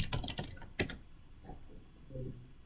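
A brief burst of quick keystrokes on a computer keyboard, close and soft, followed by a few faint clicks in a quiet room, with no talk.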